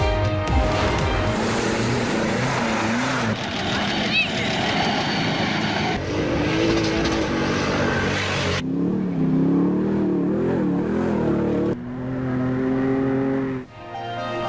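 Stock-category rally cars race on a dusty desert track, their engines revving and rising in pitch across several passes, loud and close, with a voice talking over them.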